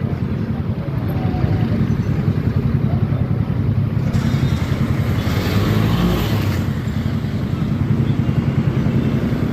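Cars streaming past a busy Manila street crossing, a continuous close traffic roar of engines and tires with passing swells, not stopping even on a green light.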